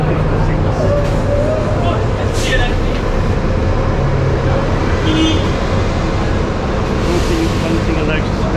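Public buses in Malta pass close by on a busy street with a loud continuous engine roar and traffic rumble, with people talking over it.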